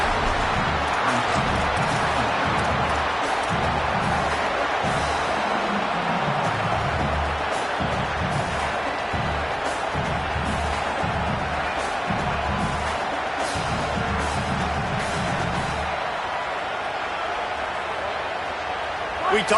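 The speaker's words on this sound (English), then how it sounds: "Now this home crowd making life difficult." Roaring home crowd fills a college football stadium, a dense, constant wall of cheering and noise that rolls on throughout while a play-by-play commentator talks over it.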